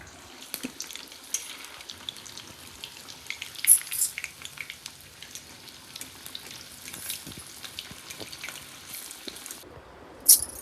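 Food frying in hot oil for a homemade lollipop-style snack, a steady soft sizzle with scattered crackles and occasional sharper pops, close and fairly quiet, with no talking.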